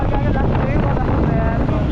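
A motorbike ride along a road in the Kathmandu valley, heard as a continuous heavy rumble of engine and wind buffeting the microphone, loud and unbroken throughout.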